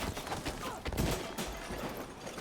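Sentry turrets fire repeatedly during a SpellForce 3 battle, a cluttered run of moderately loud shots and impacts with a couple of sharper bursts amid the battle din.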